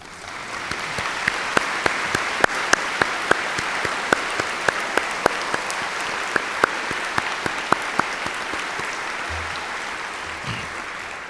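Audience at a college commencement ceremony applauding faculty and staff, a steady wash of many hands clapping with sharp individual claps standing out, moderately loud and continuous.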